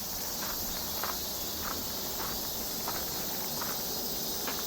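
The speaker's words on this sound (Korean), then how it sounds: "매미들은 여전히 쉬지 않고 계속 울어주고" Cicadas buzz steadily and loudly along a forest hiking trail on Buramsan in Seoul, with a faint rhythmic pulsing in the drone and soft footsteps underneath.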